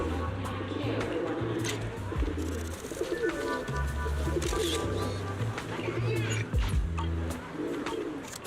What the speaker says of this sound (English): Yeah, we heard a pigeon, and this is the spot where the pigeons are.